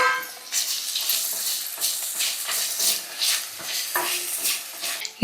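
Tomatoes and green chillies fry in a pan with crackling sizzle, broken by repeated scraping and stirring strokes of a utensil against the pan at an uneven rhythm.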